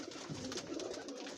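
Jacobin pigeons cooing steadily at close range in a loft kept among many white pigeons, a soft continuous murmur of overlapping coos with no talking.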